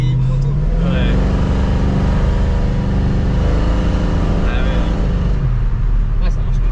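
A 1965 Ford Mustang driving on the road, its engine humming loud and close with pitch rising and easing as it accelerates and settles, while people talk over the steady motor.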